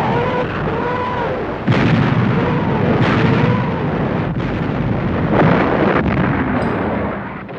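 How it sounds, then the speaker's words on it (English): A German World War II artillery barrage before dawn, heavy booms and blasts rolling continuously, loud and dense, with distinct heavier impacts standing out every second or two against a constant rumbling roar. "Before dawn on the 16th of December, the Germans fired an intense barrage."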